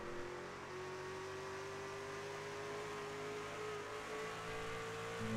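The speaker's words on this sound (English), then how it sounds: "let's ride on board here to see if these guys are still both downshifting" Race truck engine heard onboard in the iRacing video game at New Hampshire, a steady, moderately quiet engine whine that slowly climbs in pitch, with a faint shift near the end.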